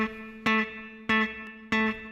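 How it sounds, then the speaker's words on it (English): Guitar notes played staccato, three clipped strums cut short with brief gaps between them, clear and close with no talking. "how to play with a staccato feel"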